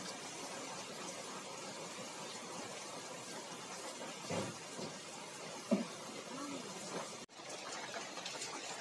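Steady heavy rain falls throughout on a rainy day, a dense, even hiss with a few faint knocks and bumps near the microphone.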